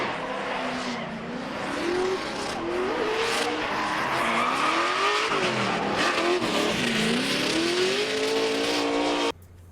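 A drifting car with its tires locking up and squealing in a long wavering screech over a strained revving engine, loud and close, before it cuts off abruptly at the end.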